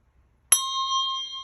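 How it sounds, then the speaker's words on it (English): A single bell is struck once during a meditation, giving a sharp bright attack followed by a clear sustained ring that fades slowly in near-silence. "ringing the bell, clearing the space, streaming grace into replace"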